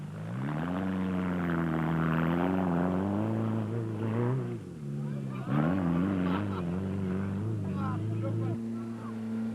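Rally car tackling a waterhole during an off-road race, its engine droning and shifting pitch as it pushes through, heard fairly close beneath a narrator's voice.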